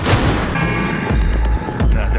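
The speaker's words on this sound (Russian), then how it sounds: "Как классно убегать от выстрела, да?" Gunfire in the video game Cyberpunk 2077: a loud, rapid flurry of shots and booming impacts with deep low thuds, repeating in close bursts over a couple of seconds.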